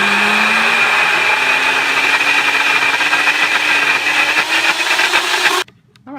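Blender pureeing cooked, dehydrated turkey, a loud steady whir with a slowly rising motor pitch that runs for several seconds before cutting off abruptly, leaving near silence.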